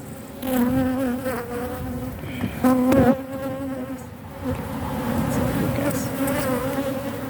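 Bees swarming around an open beehive, a loud continuous close-up buzz with shifting pitch as individual bees fly past, briefly rising in intensity midway.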